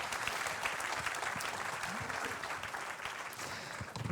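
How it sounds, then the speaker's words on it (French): A room of attendees at a national biomass and wood-energy conference applauds the round-table speakers, a continuous moderate patter of many hands heard from a middle distance. "Je vous propose d'applaudir nos intervenants pour les raccompagner dans la salle"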